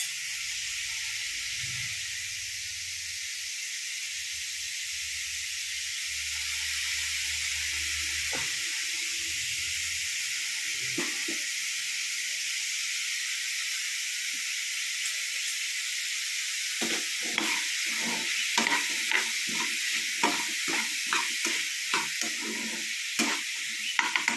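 Onions fry with a steady, close hiss in a pan for a prawn roast curry, the sizzle running the whole time, joined later by clustered stirring scrapes and clicks.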